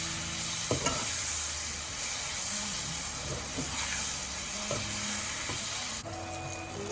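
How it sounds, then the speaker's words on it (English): Chopped tomatoes with turmeric and Kashmiri red chili powder sizzle and hiss steadily in a hot pan while a utensil stirs and scrapes through the mixture, with clinks and knocks near the mic. "Adding in some chopped tomatoes and giving that a good mix."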